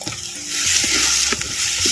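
Chopped tomatoes sizzle and fry steadily in hot oil for a dry mutton kulambu, with a bright crackling hiss and occasional stirring clinks, close up and without talk.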